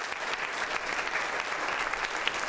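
An audience at the Miss Europe Continental 2015 beauty pageant claps in steady, dense applause that holds at an even level for the whole stretch.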